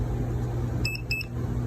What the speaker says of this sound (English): And watch, I can hear it beep.